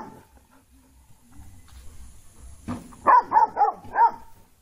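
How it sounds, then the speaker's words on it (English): A dog lets out a quick run of four or five sharp barks after a few quiet seconds, fairly close and standing alone without any talk. "D for dog."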